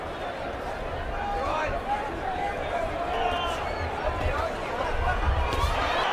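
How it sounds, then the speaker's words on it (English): The arena crowd at a Canelo Alvarez vs. Dmitry Bivol boxing match murmurs and reacts, a broad roar of babble that swells slightly under steady commentary. "You can hear the crowd respond to that."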